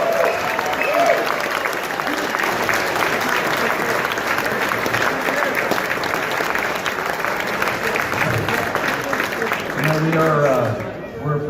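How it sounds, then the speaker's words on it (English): A crowd at a primary-election-night victory party claps steadily and loudly for the whole stretch, dense and continuous, with a few voices rising near the end as it tapers. "We just need to applaud it."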